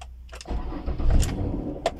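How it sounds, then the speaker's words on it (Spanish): A Ford Escape car engine starts close by: a short starter crank, then the engine catches with a rising roar and settles into a rumbling idle. No voices. "Pues enciendes el auto."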